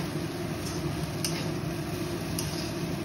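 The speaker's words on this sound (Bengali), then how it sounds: "এই দেখো ভালো করে ভেজে নিচ্ছি।" Soaked flattened rice (poha) fries and is stirred in a pan, giving a steady low sizzle with faint scraping and a few light ticks of the utensil.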